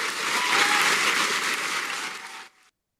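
An audience applauds in a steady, dense wash of clapping that holds for a couple of seconds and then cuts off abruptly.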